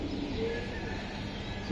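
Red bar pigeons at a wholesale pigeon market give a low, soft cooing over a steady background hum of voices and noise, faint and continuous through the short stretch.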